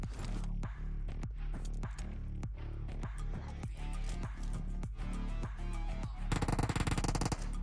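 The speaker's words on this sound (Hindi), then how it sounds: "उस बंदे ने स्कूबी के ऊपर हमला किया था, उसके पास उजी थी और मेरे पास थी AKM" Uzi and AKM gunfire from the mobile shooter PUBG Mobile rattles out in loud, rapid automatic bursts almost without pause, ending in a dense sustained volley.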